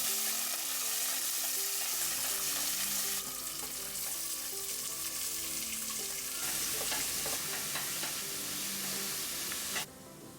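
A rice tempering of onion, green chillies, curry leaves, coriander and plenty of peanuts sizzles in hot oil, a continuous close frying hiss with a steady tonal hum underneath and no talk.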